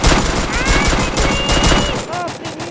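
Rapid bursts of gunfire from the mobile battle game Free Fire MAX rattle loudly and continuously for a couple of seconds, then thin out into a few trailing shots and effects.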